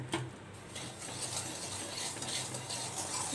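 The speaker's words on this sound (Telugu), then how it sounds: "ఇట్లా కలుపుతూనే ఉండాలి" Rice is stirred continuously in a pan of hot salt while puffed rice is being made, producing a steady, close, dry granular rustle and scrape that runs throughout without speech.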